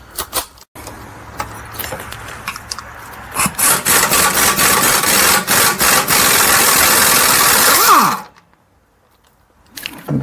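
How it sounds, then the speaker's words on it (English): Impact wrench removing the four 15mm bolts on the rear differential of a 2002–2008 Dodge Ram, loud rattling, whirring bursts that start and stop several times before cutting off into near silence, then faint handling noise. "In order to do that, I'm gonna remove those four 15mm bolts. I have my impact."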